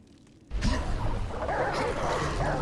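A dog in the video game Remnant: From the Ashes, with a sudden burst of barking and yipping after a quiet moment, followed by continuous game noise.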